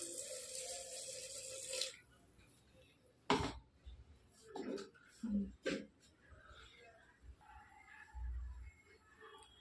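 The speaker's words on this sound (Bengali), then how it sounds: "জল দিয়ে দেবো।" Water is poured into a pressure cooker to boil peas: a short splashing pour at the start, then kitchen clatter while a person talks.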